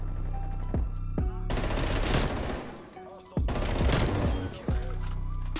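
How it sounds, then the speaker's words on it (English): A sentry gun in Call of Duty Cold War fires long, loud automatic bursts of rapid gunshots, separated by short pauses, with game music and effects underneath. "Oh, that sentry gun's gonna kill me."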